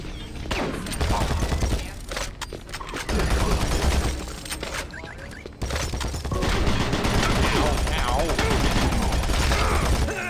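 Rapid gunfire in the video game Doom 3 rattles on in dense, loud bursts with brief gaps, mixed with game noise while people talk over it.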